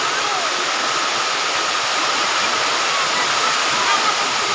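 A loud, steady roar of rushing waterfall water in Libmanan, Camarines Sur, pours continuously, a dense broadband wash close by.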